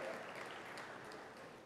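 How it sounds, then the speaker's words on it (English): A conference keynote audience applauds in a steady wash of many hands clapping, even and sustained across the moment without a break. "I'm glad I heard some applause for that"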